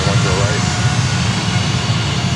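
A United Airlines jet on approach to Fort Lauderdale airport makes a steady, loud broadband roar that holds evenly for a couple of seconds.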